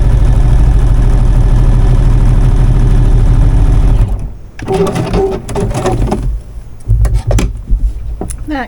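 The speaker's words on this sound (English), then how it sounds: "Let me sew this up just a little bit further." A sewing machine runs steadily and loudly while stitching quilted chair cushion fabric, then stops after about four seconds; several short bursts of stitching follow amid handling noises.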